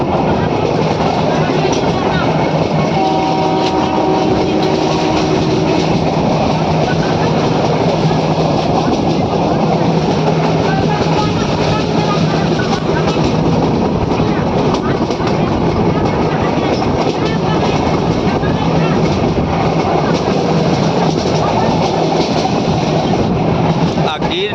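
Passenger train on the old railway line from Gir Gadhada to Sasan Gir, a loud continuous rumble with rattling wheels on track from inside a carriage, with voices faintly beneath the din.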